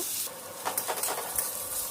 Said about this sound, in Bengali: এবার উচ্ছেটা দিয়ে ভাজা ভাজা করে নেব।